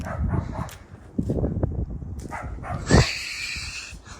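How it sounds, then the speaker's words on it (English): A dog barks repeatedly in the background, sharp yips and whimpers mixed with a steady low noise. "excuse the annoying dog in the back"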